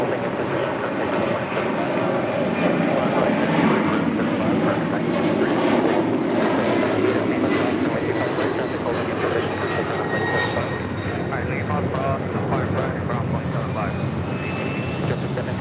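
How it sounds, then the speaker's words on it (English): A Delta 767-300ER jet takes off from runway 25 right at LAX, a loud continuous engine roar that holds steady throughout, with a voice talking over it. "This is Delta Airlines 688 taking off to JFK on a 767-300ER"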